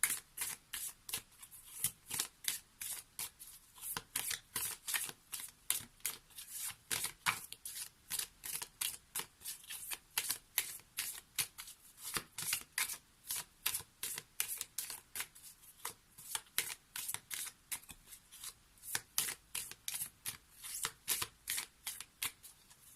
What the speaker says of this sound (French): on va prendre une carte maintenant issue de l'oracle d'Amaham